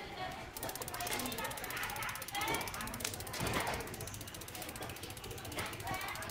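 The original bearing hub on a Kolor racing bike's 700 wheel freewheels close up with a rapid, even ratcheting click, a continuous mechanical buzz and a brief soft rolling whir under it.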